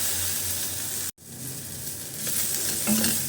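Okra, garlic and small onions sauté in a pan with a close, dense sizzle, broken by a short silent gap and then resuming with steady stirring and crackling.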